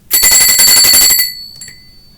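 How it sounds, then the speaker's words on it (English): A high-pitched bell rings in a rapid, loud trill for over a second, then stops abruptly, with one faint final tap afterward. "group 3 is the high bell"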